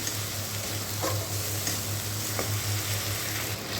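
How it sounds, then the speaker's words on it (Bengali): Ginger, garlic and onion paste with turmeric fries in a pan, a steady close sizzle with occasional scrape and stir clicks and a low background hum, no talk. "আদা রসুন পেঁয়াজটা ভালো করে কষে নিতে হবে"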